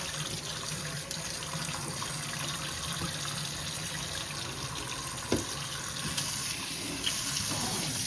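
A kitchen faucet runs steadily into a large sink while callaloo is rinsed in plain water, a constant gushing splash with a few soft knocks and shifts in the flow.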